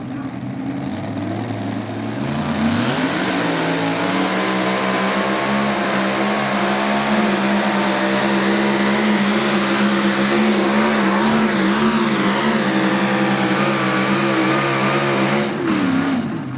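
A mini rod puller's engine roars at full throttle during a tractor pull in Hillsboro, Wisconsin, climbing in pitch after a couple of seconds and holding a loud, steady howl before cutting off near the end.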